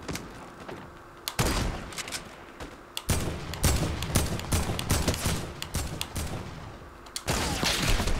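Gunfire in a Fortnite match comes as repeated sharp cracks in loud irregular bursts, some rapid and clustered, over a constant game background with no talking.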